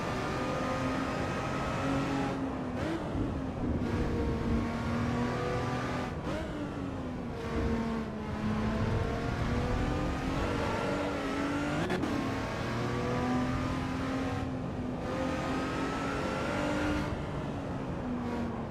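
Race car engine in Assetto Corsa EVO, loud and steady throughout, revving up and down through gear changes with rising and falling pitch, no voices over it.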